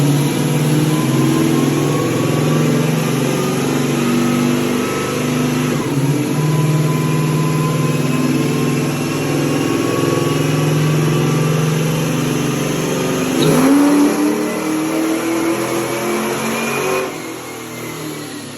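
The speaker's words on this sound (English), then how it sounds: "that is our dyno pull" A 1968 Pontiac GTO on a dyno, with fuel pressure dropping, running a pull: loud, continuous engine roar climbing in pitch as RPM builds, a brief dip and surge midway, then easing off at the end.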